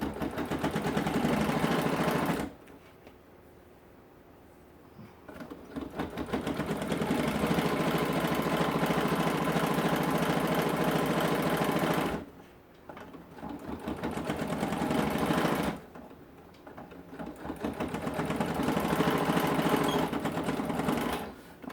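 A sewing machine back stitches a crossbody bag, its close, steady mechanical whirring running in several bursts broken by short pauses.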